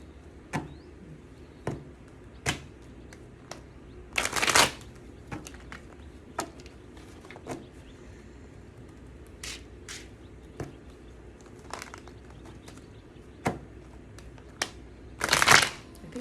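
A tarot card deck being shuffled in short riffling bursts, a few quick snaps spaced apart and two longer, louder shuffles, with a quiet room between them and no talking.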